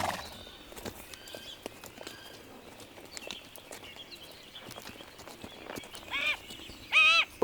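Horse walking outdoors at a falconry site, with soft, irregular hoof steps over quiet ambient noise and a few bird calls; brief sharp whistling chirps near the end.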